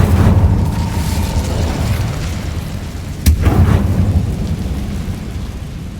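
Incendio fire spell cast in Hogwarts Legacy on Xbox Series X, a sharp sudden crack followed by a rumbling roar over a steady, storm-like background.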